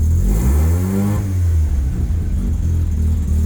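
Rotary engine of a Mazda RX7 running a Microtech LT-10s ECU revs up loud and close with a rising pitch, then settles back toward a rough idle, with no one speaking.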